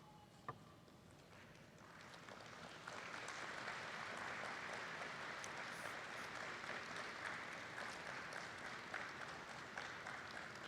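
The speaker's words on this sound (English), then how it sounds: "giving them a round of applause" Graduates at a medical school graduation and investiture ceremony applaud their families, distant and soft at first, then swelling into sustained, even clapping from a large hall audience.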